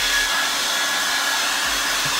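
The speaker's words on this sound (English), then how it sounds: "Let me get a blow dryer because it's going to dry it fast." A hair dryer blows on freshly painted nails, a loud, steady whooshing roar close up that runs unbroken throughout with no talking.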